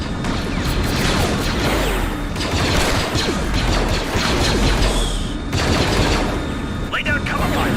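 Blaster fire crackles in a Star Wars video game battle set in a Coruscant ambush. Dense bursts of rapid shots and crashing impacts overlap continuously, with voices mixed in.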